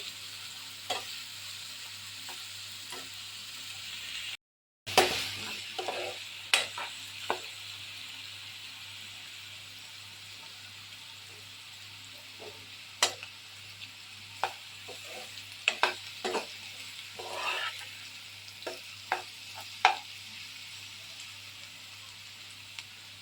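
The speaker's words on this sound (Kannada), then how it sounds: "प्याज ब्राउन होने तक हम ऐसे ही इसको पका लेंगे" Onions fry in a pan for chicken gravy, a steady soft sizzle with a spoon or spatula scraping and tapping at irregular intervals, close by.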